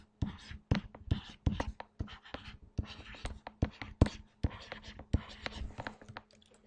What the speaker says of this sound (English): I'll write it a little bit bigger here so you can actually see it.